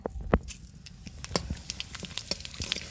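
Whole spices tempered in hot oil for a paneer and new potato dum, giving a steady close sizzle dotted with sharp crackles and pops for a few seconds, with no talking.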